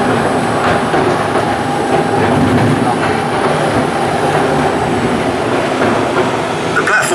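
London's Mail Rail underground train runs along its narrow track through a tunnel, a steady loud rumble of wheels and rolling carriages with faint clatter throughout.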